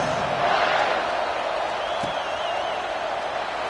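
A football stadium crowd roars in a continuous, loud wash of cheering during a college game kickoff, steady throughout with a brief whistle-like tone partway through.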